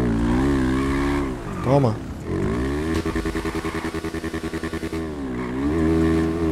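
A Honda Pop motorcycle, a beat-up junker, revs in GTA V: a sustained engine drone with a rising and falling rev, then a rapid stuttering burst of pulses before settling back to a steady hum, with a voice talking over it.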